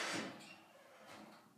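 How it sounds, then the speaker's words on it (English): An Otis Series 5 elevator door slides shut, a soft sweeping rush with a light bump near the end, close by and fairly quiet. "Door close button works."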